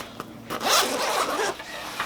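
A zipper runs along a backpack compartment on a Prometheus Design Werx S.H.A.D.O Pack, giving one close, fast rasping pull that lasts about a second and a half.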